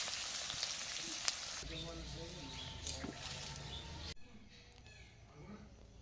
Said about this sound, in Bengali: তেলের মধ্যে পেঁয়াজ দিয়ে দিলাম পেঁয়াজগুলো ভালো করে ভেজে নিচ্ছি